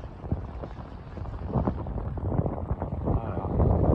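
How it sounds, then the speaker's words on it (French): Wind of about 10 knots blows past a sailboat, a low rushing buffet against the microphone that swells gradually over a few seconds, with no talk. "Alors il n'y a pas un vent très important, mais ce qu'il faut quoi. Il doit y avoir 10 nœuds."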